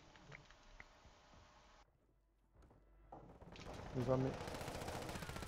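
Submachine gun fire in a video game comes in rapid, dense bursts that grow loud and continuous toward the end, with a player's voice speaking briefly.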